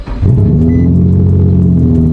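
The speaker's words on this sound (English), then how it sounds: "this is how you should be starting the car, letting it warm up" A Nissan 370Z/350Z engine cranks and fires up, then settles into a loud, close, steady idle rumble as it warms up.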